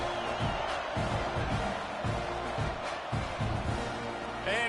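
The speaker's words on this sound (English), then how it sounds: "this crowd is buzzing after that last score" Stadium crowd at a Tennessee vs Texas A&M college football game buzzing after a score, a steady distant roar of many voices with scattered shouts, fairly faint and continuous.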